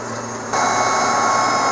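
A vacuum blower runs on a John Deere 6120M tractor and planter during soybean planting. It starts as a steady mechanical whine, then a loud, constant rushing drone comes in partway through and holds without talking.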